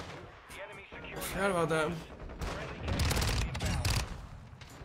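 Video game gunfire, with sniper shots from a tennis court area, pops in bursts under continuous excited talking by a player.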